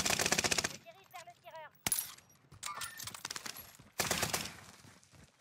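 Rapid automatic gunfire from an online shooter video game bursts out in several loud, dense volleys with gaps between them, while a player talks excitedly.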